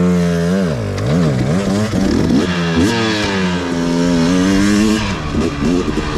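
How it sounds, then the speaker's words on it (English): A 2021 KTM 125XC two-stroke dirt bike engine revs loud and close, its pitch climbing and falling through repeated throttle blips and sustained high-rpm pulls with no voices over it. "The Foxy Bibbs is going to ride the 125 and give us his impressions"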